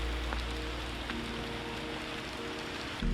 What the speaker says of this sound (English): The rain picked up